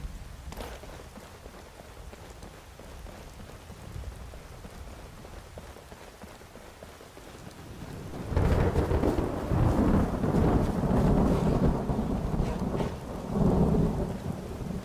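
Rain patters steadily in Skyrim with the Requiem mod, then from about midway a loud, rolling thunderclap surges in and keeps rumbling heavily over the downpour to the end.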